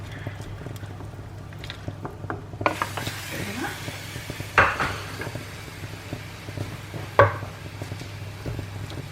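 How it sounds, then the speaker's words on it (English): Onions and spices are stirred in a cooking pot, with a spoon scraping and giving a few sharp clanks against the metal over a low background hum. "Just give that a little stir."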